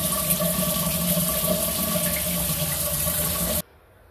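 Water pours from a newly assembled 8-inch rain shower head as a steady, full hiss of spray, then cuts off abruptly near the end, leaving near silence.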